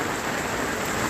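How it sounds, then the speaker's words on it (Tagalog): Heavy rain pours down at Jaro Plaza during All Saints' season, a dense, steady wash of falling water that is close and continuous through the short stretch. "So amo ni nga bisan waswas ang ulan"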